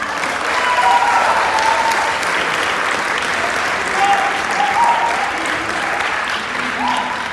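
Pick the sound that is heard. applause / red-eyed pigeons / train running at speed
applause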